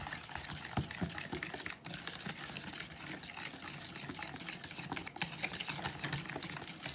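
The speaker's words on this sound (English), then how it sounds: "We'll just take a whisk and start mixing it." Cake batter is whisked in a bowl with a quick, continuous wet swishing and rhythmic clicking of the whisk, steady and close, with a couple of louder knocks against the side.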